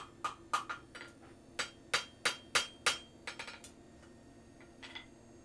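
A ball peen hammer draws out hot iron on an anvil while forging a rustic handle, a run of sharp, ringing metallic strikes in uneven bursts, fairly close, with quieter taps toward the end.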